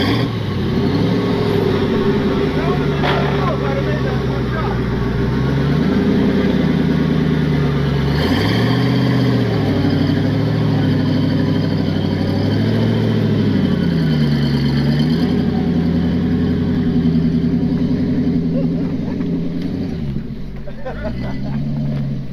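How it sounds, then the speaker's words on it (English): Engine of a 74-year-old Jeep Willys laboring up a steep climb, a loud continuous drone that dips and swells in pitch as it strains, then sags and falters near the end. "when I lifted that wheel up all steep, the carb sputtered, and I tried to pedal it and back off and catch it, but I ended up stalling it"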